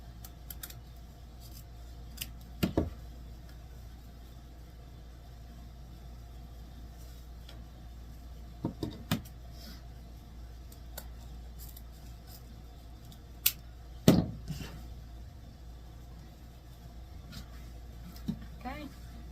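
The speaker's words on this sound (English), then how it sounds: "I'll cut these at an angle." Scissors make a few sharp snips while cutting satin ribbon at an angle for a whimsical wreath craft project. The quiet cuts come in scattered clusters against a low room hum, with a person talking softly nearby.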